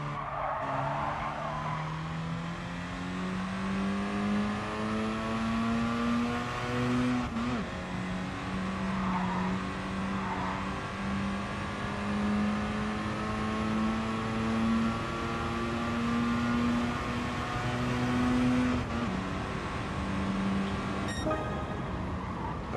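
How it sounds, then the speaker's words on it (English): A Mazda RX-7 in the Gran Turismo Sport racing game revs hard through high rpm, its engine note climbing steadily, dipping at gear shifts and rising again, with tire squeal and a continuous loud drone throughout. "Especially when the RX-7 is higher in its rev range."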